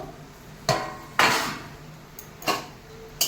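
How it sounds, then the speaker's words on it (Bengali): Metal clanks of a pot lid being lifted and handled over a pot of gravy with river snails, several sharp knocks and scrapes spaced apart, fairly close. "আমি ঢাকনাটা আবার খুলবো"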